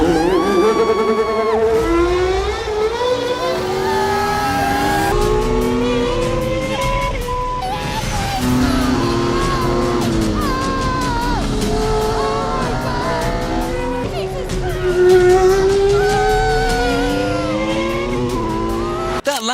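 A Formula One car lapping a circuit with a celebrity passenger aboard, its loud, high engine whine climbing and dropping through gear changes without a break.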